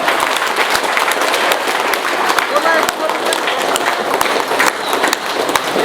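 Loud, dense applause from a wedding audience fills the whole stretch, steady clapping with a host's voice calling out over it.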